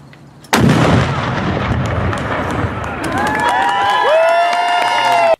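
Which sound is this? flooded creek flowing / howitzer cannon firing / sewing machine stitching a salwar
howitzer cannon firing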